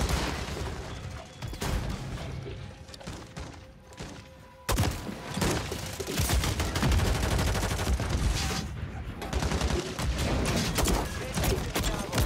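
In Call of Duty MW3, an RGL grenade launcher fires amid dense gunfire and thudding explosions, a loud, continuous barrage of shots and booms with no clear gaps.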